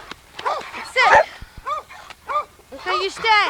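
Dogs yip and bark in short high bursts with rising and falling whines, several calls spread through the moment, heard close and moderately loud outdoors during a blizzard.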